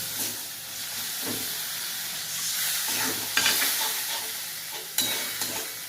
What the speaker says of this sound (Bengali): এখন এটাকে ভালো করে কষিয়ে নেব